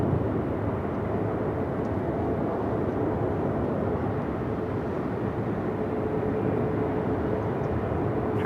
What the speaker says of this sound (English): Hawaiian Flight 3 heading to Honolulu.